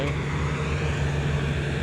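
A farm tractor's steady low engine drone runs continuously with a strong rumbling hum, close and unbroken, with no voices over it.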